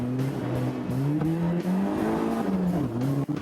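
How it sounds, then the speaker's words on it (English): A drift car powers through a cone course, its engine revving hard and rising in pitch, then dropping as it shifts into a higher gear and climbs again, close and loud with some tire noise. "Now he goes hard and shifts into a higher gear as he comes across the starting line."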